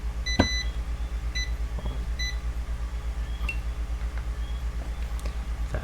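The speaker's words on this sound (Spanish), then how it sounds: "a pesar de todo el pitido que hizo el multímetro" Several short electronic beeps from a multimeter continuity test at irregular intervals, close by, over a steady low electrical hum, while checking a transistor on a Haier 48YCA TV board with a PFC fault.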